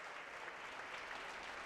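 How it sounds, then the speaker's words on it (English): Round of applause from a crowd at a high school basketball senior night, steady but faint and distant, continuous throughout. "And hear a strong round of applause."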